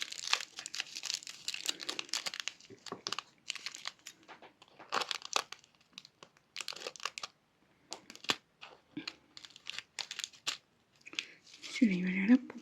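Material that does not cut well crinkles and tears under repeated snips and crumples, in irregular close bursts with pauses, and a voice briefly at the end.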